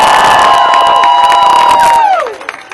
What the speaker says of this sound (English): let's give another amazing round of applause to Cecilia Wong, the National Legal Director